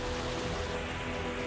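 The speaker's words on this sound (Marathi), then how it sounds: "24 तासांपासून अमरावती जिल्ह्यात मुसळधार पाऊस सुरू आहे" Heavy monsoon rain in Amravati district, a dense, steady roar of downpour without pause, loud and close, with no voices over it.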